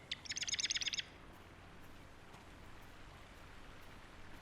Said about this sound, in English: I hear a very loud bird.